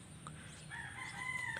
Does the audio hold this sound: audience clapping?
no